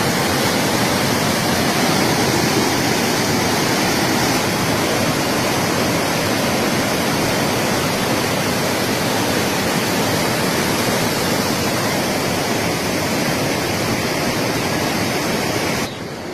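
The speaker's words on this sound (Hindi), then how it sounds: "और उसके बाद शोर मचाती हुई अलकनंदा की छटा।" The Alaknanda river roaring past near Badrinath temple, a constant loud wash of churning water with steady broadband rush throughout, alone without speech.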